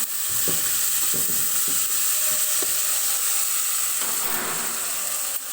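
Turmeric, chopped tomatoes and coarse salt land in a hot frying pan, giving a steady loud sizzle with a few soft stirring knocks and clinks throughout.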